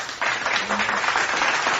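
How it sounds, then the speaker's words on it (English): Applause and clapping from a crowd, a dense, steady wash of hands that starts suddenly and holds for a couple of seconds. "Give applause for that."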